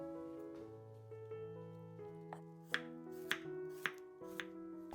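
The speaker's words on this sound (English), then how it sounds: "We'll slice the ginger into matchstick size like this." A knife slices ginger into matchsticks on a board, with a few crisp, evenly spaced cuts landing over steady background music.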